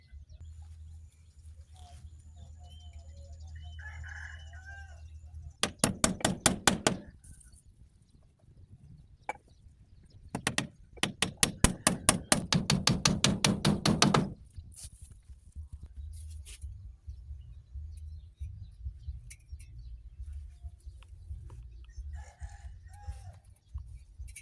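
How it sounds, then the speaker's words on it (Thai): Nails are hammered into wood while a chicken coop is built from leftover household materials. The strikes come in two rapid, close bursts, with quieter outdoor background between them. "ก็จะใช้วิธีการตอกตะปูรัดกันไว้แบบนี้เนาะ"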